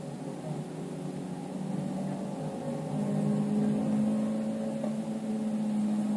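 A Cambertire car engine revs high near the top of third gear, a steady droning whine that swells louder midway while the car is driven fast through corners.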